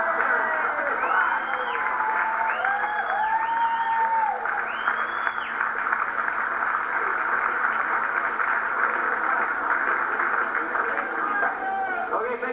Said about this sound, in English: I want everyone to stand and applaud me